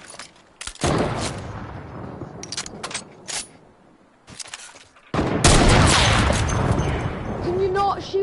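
Rapid bursts of gunfire in a video game hit walls, loud and close, in several separate volleys with sustained fire near the end, while players talk in between.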